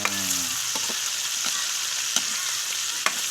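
Pork and chicken sautéing in a pan for a mung bean stew, a steady loud sizzle with occasional scraping stir clicks and no talking.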